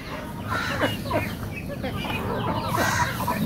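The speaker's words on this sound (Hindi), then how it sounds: "इश्तियाक भाई का मिनी ज़ू है जहाँ पर चिकन भी हैं छोटे छोटे से चिक चिकन के और डक भी हैं" Chickens and small chicks clucking and cheeping at a small backyard mini zoo that also keeps ducks, busy overlapping calls close by with a person talking over them.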